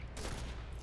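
A quick burst of gunfire, several shots in rapid succession, loud and close, with a dense rumble underneath.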